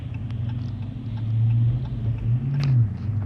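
A Dodge Challenger SRT 392 V8 with a six-speed manual accelerates in first gear, a deep close engine rumble that rises in pitch as it revs, eases slightly, then climbs again.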